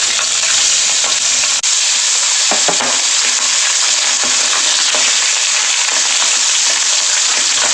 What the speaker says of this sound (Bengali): মাছগুলো দিয়ে দিয়েছি, আমরা মাছগুলোকে একটু ভেজে তুলে নেব।